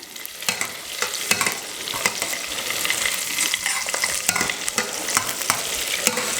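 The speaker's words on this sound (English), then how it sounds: "I am going to flash fry these" Strips flash frying in a hot pan for a soup topping, a loud, bright continuous sizzle with crackling pops and stirring scrapes, close up and without speech.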